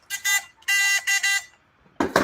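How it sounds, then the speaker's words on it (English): Harsh electronic buzzer sound effect, several loud buzzing bursts in quick succession with short gaps, followed by a brief rougher burst at the end. "Buzzer. We need the buzzer."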